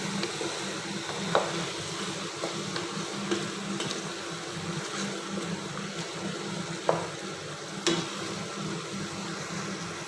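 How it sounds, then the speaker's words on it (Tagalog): Chicken kinamatisan with black pepper sizzles steadily in a pan while being stirred, with a few faint scrapes and clicks over the constant frying hiss. "Mix lang natin siya guys."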